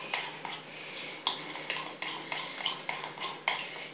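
A spoon scrapes and clinks around a bowl of homemade slime mixture at close range, the stirring strokes repeating in a steady rhythm of sharp taps and scrapes.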